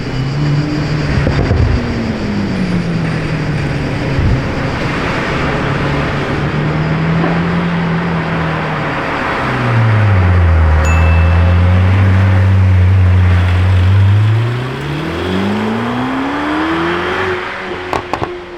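A Lamborghini Temerario engine revs loudly and up close, the pitch climbing and falling through several sustained pulls and dropping into a deeper roar midway.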